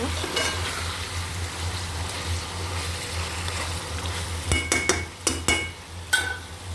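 Snakehead fish sizzling in hot oil with a constant hiss and low hum, then several sharp clinks and scrapes of a utensil against the pan.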